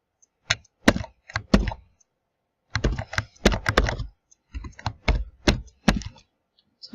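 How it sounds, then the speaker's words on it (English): Typing on a computer keyboard while coding a website in a code editor: close, crisp key clicks in irregular bursts separated by short pauses. "I'm going to start typing."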